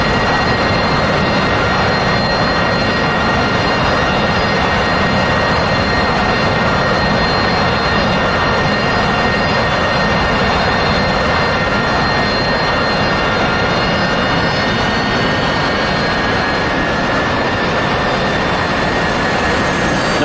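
A steady, loud aircraft engine drones without a break as a plane in the DCS World flight simulator turns final on landing approach to runway 33, with a constant whine sitting above a broad rumble and no talk.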